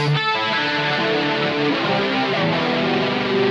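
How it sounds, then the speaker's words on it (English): Distorted electric guitar through a BOSS GT-1 effects processor plays a continuous, shimmering run of notes with a wavering chorus sheen, loud and steady throughout, with no voices. "I want a distortion with a chorus"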